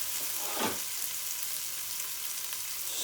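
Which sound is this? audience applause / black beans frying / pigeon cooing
black beans frying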